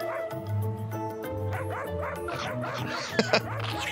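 Several dogs bark and yip in quick, overlapping bursts, close and fairly loud, mixed with whimpering cries and a couple of sharp louder barks near the end.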